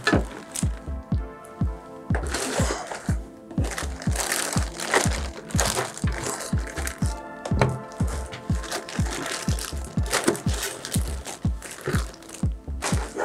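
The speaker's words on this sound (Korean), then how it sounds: "런너들이 이렇게 비닐로 포장되어 있어요" Plastic wrapping around the parts runners of a Trumpeter 1/16 MaxxPro MRAP model kit crinkles and crackles repeatedly in close, uneven bursts, handled continuously without talk.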